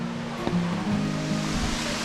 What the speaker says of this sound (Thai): ตอนนี้ก็ถึงแล้วนะครับน้ำตกตาดฟ้า